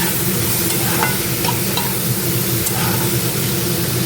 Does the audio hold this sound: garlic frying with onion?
yes